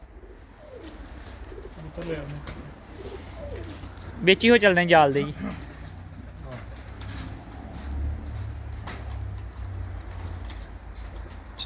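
Race-winning pigeons coo in a loft, one clear warbling burst standing out over soft background cooing while someone talks in between.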